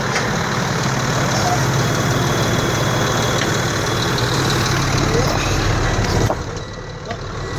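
Truck engine idling near round bale hauling, a steady low rumble that holds evenly before dropping off near the end, with brief talk over it.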